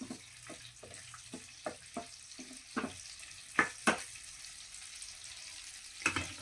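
Quiet frying of dried red chillies in oil for coconut chutney, with soft sizzles and a string of sharp spoon clinks and scrapes against a pan, irregular and close.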